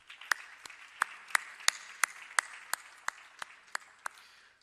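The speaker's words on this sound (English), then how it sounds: "giving them a big round of applause" Applause at a closing ceremony for a moot court competition: sharp claps in a steady, even rhythm, about three per second, close and clear with no voices over them.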